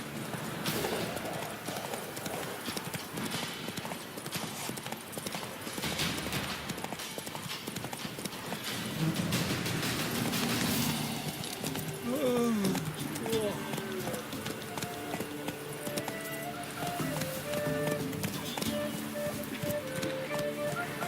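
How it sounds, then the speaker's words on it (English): Horse hooves clip-clop at a steady gait in The Witcher 3 video game, rhythmic and fairly close, under a man's spoken lines and game background sound, with a brief horse whinny partway through. "Whoa there, Roach."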